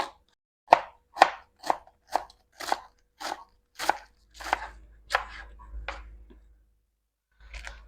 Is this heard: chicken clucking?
no